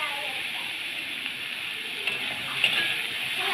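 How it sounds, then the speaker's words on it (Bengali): Chopped pointed gourd (potol) frying in a pan, giving a steady, close hiss and crackle with faint bubbling and a few small pops toward the end, with no talking. "এবার দিয়ে দিলাম পটল কুচানো। ভালো করে এবার ভেজে নেব।"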